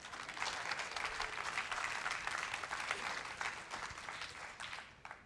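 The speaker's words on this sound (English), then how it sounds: "You can clap for her, too." Steady audience applause from a church congregation, a dense wash of clapping that holds for several seconds and tapers slightly toward the end, heard from a distance with no talk over it.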